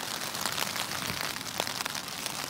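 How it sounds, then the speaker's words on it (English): Rain falls on a tent pitched behind a caravan site on a coastal hike, a soft, steady, even patter that continues throughout with no voices. "it just started raining as I got the tent up."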